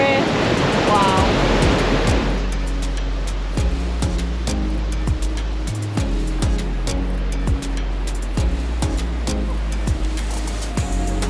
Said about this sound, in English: the sound of the roaring lake